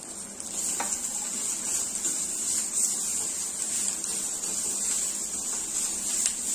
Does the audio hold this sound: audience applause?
no